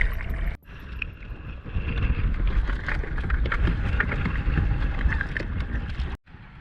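Strong coastal wind buffets the microphone, giving a continuous loud rumble with gusty roaring that drops out briefly near the start and the end.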